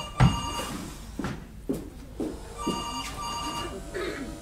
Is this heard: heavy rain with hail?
no